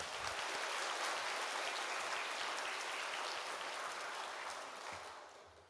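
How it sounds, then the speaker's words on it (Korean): Church congregation applauds to welcome a newly appointed pastor, a dense, even wash of clapping that stays steady and then fades away toward the end. "우리 박수로 모시도록 하겠습니다"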